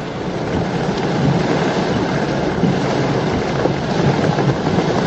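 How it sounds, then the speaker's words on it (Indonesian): Heavy storm rain with wind roars steadily and loudly, a dense unbroken downpour throughout, during a road trip in a Toyota Fortuner 2.8 toward coastal Ciletuh. "Jadi memang hujan deras, dan ini disertai angin rekan-rekan."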